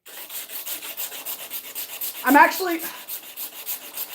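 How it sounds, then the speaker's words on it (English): Steady rhythmic rasping strokes of sandpaper rubbing back and forth by hand on a knife blade, close up, with a brief louder scrape partway through. "start sanding this blade"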